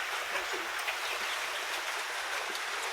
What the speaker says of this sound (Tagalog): Yan, bumuhos na ulan.